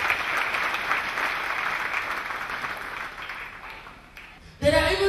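Church congregation applauding during a sermon, a broad steady wash of many hands that slowly fades over a few seconds before a loud voice cuts in abruptly near the end.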